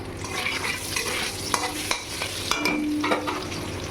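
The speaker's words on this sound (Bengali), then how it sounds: "আমি পনির ভাজার তেলেই আমি আলুগুলো ভেজে নেব" Potatoes frying in white oil left over from frying paneer, a steady loud sizzle close by with occasional stirring scrapes and clicks, no voices.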